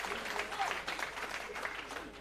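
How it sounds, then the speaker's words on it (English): At a fight night, before the first bout, a crowd applauds and cheers in a busy, moderately distant wash, while an announcer speaks over it. "There we go, a little bit more noise from the crowd now."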